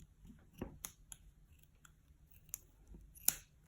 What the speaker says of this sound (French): je vais un peu couper le surplus